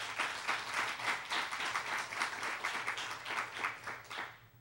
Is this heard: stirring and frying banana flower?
no